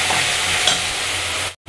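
Spice paste for a mushroom malai curry is stirred in a hot frying pan, a steady close sizzle with soft scraping from the spoon, continuous and loud, cutting off abruptly at the end.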